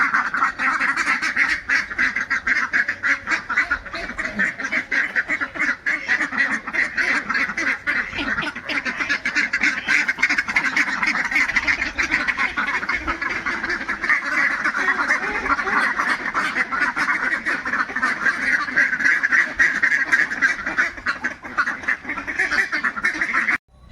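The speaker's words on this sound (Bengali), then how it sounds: "সকালবেলায় কত হাঁস এই পুকুরের ধারে খেলা করছে" A flock of ducks at a pond's edge in the morning quacks continuously and busily. Overlapping calls come from nearby and keep on without a pause for the whole stretch, with no talk.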